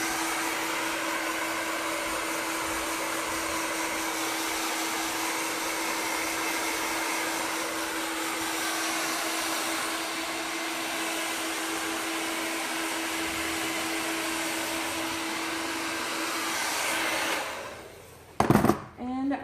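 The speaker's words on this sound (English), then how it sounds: "you take your blow dryer and you blow dry everything back into the shape" A hair dryer blows continuously at close range with a steady whine and airy roar, then cuts off near the end followed by brief handling noises.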